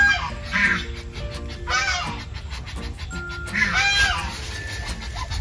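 Laying hens on a small backyard farm clucking near by, with repeated short tonal calls and cackles overlapping over a steady outdoor background.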